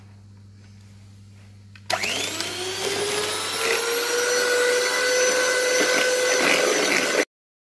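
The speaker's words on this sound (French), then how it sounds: "Et on va commencer à mélanger avec le batteur." Electric hand mixer whirring steadily as it beats egg yolks and sugar into cake batter for a chocolate birthday cake, starting abruptly after a quiet moment and running loud and continuous, with no talk over it.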